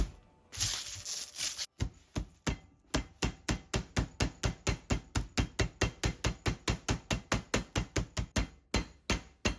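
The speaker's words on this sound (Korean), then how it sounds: "뒤집어서 반대쪽도 두드릴게요." Steady, rapid pounding of a pork cutlet for tonkatsu with a meat tenderizer, about three blows per second after a brief scraping start, close and loud with no talking.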